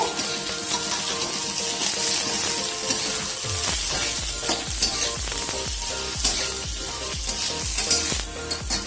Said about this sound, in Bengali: এই বেগুনগুলো একটু হালকা ফ্রাই করে নেব